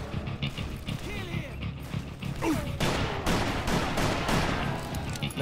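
Gunfire in the Western video game Call of Juarez: Bound in Blood, a dense stretch of rapid shots layered over game music and battle noise, with shouting voices mixed into the busy, loud scene.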